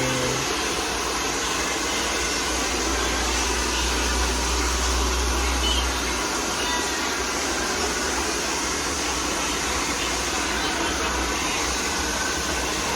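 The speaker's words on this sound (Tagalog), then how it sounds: "Ayan na, blower namin." A salon hair blower runs with a steady, loud blowing whir throughout, a constant broadband rush like a hair dryer held close.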